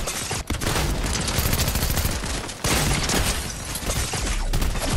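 Dense, continuous gunfire in the video game Fortnite, a loud sustained barrage of shots and bursts with no pauses, no talking over it.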